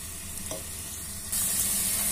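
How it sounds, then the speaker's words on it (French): Onions sweat with a pinch of salt in a pan, giving a steady low sizzle that jumps to a brighter, louder hiss partway through and holds there. There is no talking. "je vais laisser les oignons juste se ramollir"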